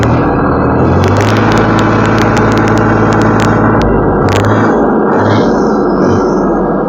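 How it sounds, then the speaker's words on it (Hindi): A Solis 5015 diesel tractor idles in neutral with a steady, deep, loud rumble, heard close up with a few light rattles on top. "तो इस शानदार ट्रैक्टर की आवाज़ सुन लेते हैं जी"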